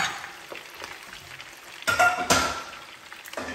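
Food dropped into hot oil gives a soft crackling fry that swells into louder bursts of sizzling partway through, then settles back. There is no talking.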